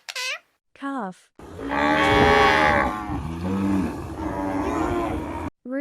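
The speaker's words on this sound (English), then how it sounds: "Calf." A calf lets out a loud, close, long bawling moo that wavers and trails off, preceded and followed by short high-pitched cries.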